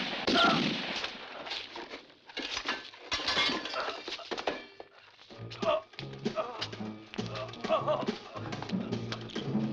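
Gunshots in a western film, several sharp cracks and bursts spread across the scene, some loud and close, mixed with shouting voices, music and other film sound.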